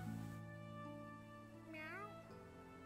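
A cartoon cat in the South Park: The Fractured But Whole video game lets out a single drawn-out, wavering meow over steady game background music.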